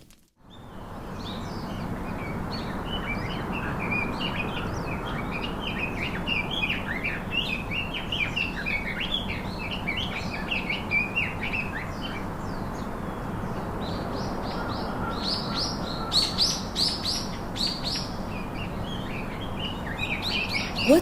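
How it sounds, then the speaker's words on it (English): Birdsong fills a continuous outdoor scene: many overlapping chirps, tweets and calls at steady moderate loudness throughout, with a few louder, brighter calls near the end and no talking. "What does the birds chirping make you feel like?"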